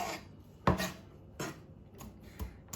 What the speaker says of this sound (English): the 1/4 inch you didn't slice already, you just slice like that